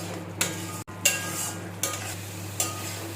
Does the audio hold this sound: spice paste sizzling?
yes